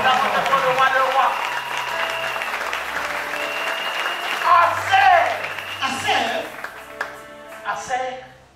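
A church congregation at a Sunday service applauding to acclaim the king of kings, sustained clapping under a voice speaking and singing over it, fading near the end.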